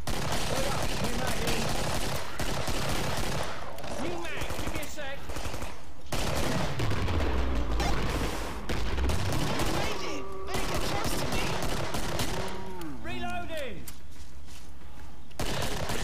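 Gunfire in the video game Killing Floor, with rapid machine-gun bursts and single shots rattling almost continuously, loud and close, mixed with in-game creature noises and voices talking over the action.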